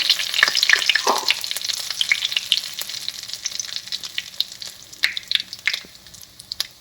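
Dry red chillies, bay leaves, cloves, curry leaves and asafoetida fry in hot oil for mamra chevdo, a steady close sizzle with sharp crackles and sputters, busiest at the start and again near the end, with no talking.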